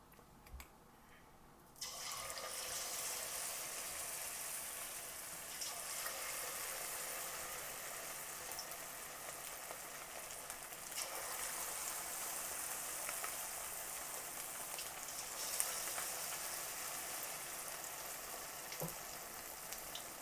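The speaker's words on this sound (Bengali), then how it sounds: "তেলের মধ্যে আমরা একটা একটা করে পাকোড়া ফ্রাই করবো" Chicken pakora coated in flour batter fries in hot oil, a steady, even sizzle that starts abruptly after a quiet moment and carries on for the rest of the stretch, with no voices over it.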